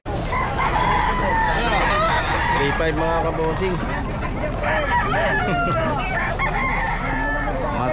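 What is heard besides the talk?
roosters crowing at pet market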